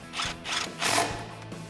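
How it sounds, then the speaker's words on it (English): A 10mm socket on a ratchet tightens a brake line bracket bolt on a 2005-2021 Toyota Tacoma during a leveling kit install, three short close ratcheting bursts in quick succession. "Grab your 10mm socket and tighten it down."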